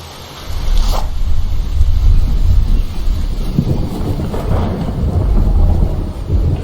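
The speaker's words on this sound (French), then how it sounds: "Ah, ça commence à pleuvoir." Rain pours steadily with low rumbling thunder and gusty wind in the video game The Infected, a continuous loud storm wash.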